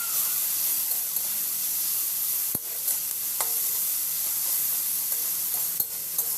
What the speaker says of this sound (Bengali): হলুদ গুঁড়িটা দিয়েও কিন্তু আবার ভালো করে নেড়ে নেব